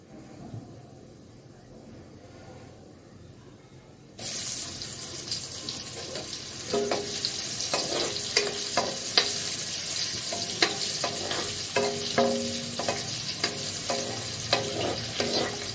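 Chopped onions drop into hot oil in a pan, sizzling abruptly loud after a quiet start, then frying steadily with stirring clinks and scrapes for a dozen seconds.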